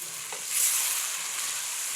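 Potatoes frying and being stirred in a pan for a vegan aloo and long green bean (bodi) curry give a steady close sizzle with a brief scraping stir, no voices.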